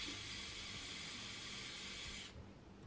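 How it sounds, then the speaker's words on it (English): A steady close hiss of an aerosol hairspray can spraying onto eyebrows during makeup, held for about two seconds and then cut off. "hairspray"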